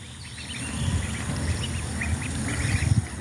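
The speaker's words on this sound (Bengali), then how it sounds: "আমার এখন 46টা হাঁস আছে" A flock of domestic ducks kept on a small farm, quacking and chattering continuously at close range with no talking.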